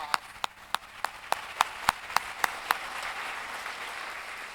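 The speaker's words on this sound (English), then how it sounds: "Let's give them a round of applause." Applause for speech competition finalists, about a dozen distinct, evenly spaced claps ringing out in a quiet hall before they fade into a soft murmur.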